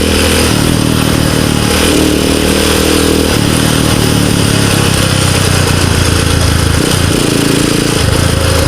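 A Rusi Gamma 200 motorcycle engine runs loud and close in a continuous rough idle, with a steady mechanical clatter and slight shifts in pitch throughout.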